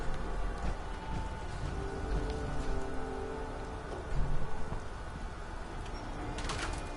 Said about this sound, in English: for some bizarre reason, it's still raining on my power armour